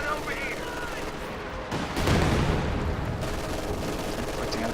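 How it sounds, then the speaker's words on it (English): Katyusha rocket artillery firing in a video game, a dense, continuous roar of rapid launches and blasts that swells around the middle and holds steady, with faint voices underneath. "Katyusha firing once again in this area"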